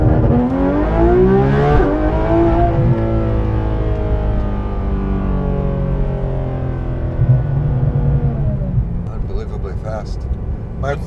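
A loud Porsche 991.2 GT3 RS engine revs and roars as the car launches, the pitch climbing through the gears, close and powerful.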